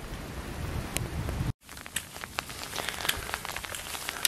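Steady rain falls through a mountain forest on an Alpine traverse, a dense close patter of drops with scattered sharper hits, briefly cut off by a short gap midway before resuming.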